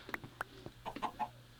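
Minecraft chickens cluck in short, clipped bursts, a handful of close, fairly quiet blocky squawks spaced irregularly over a second and a half, with nothing else in the background.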